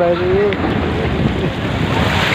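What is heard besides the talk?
sea waves at the shore near Burj Al Arab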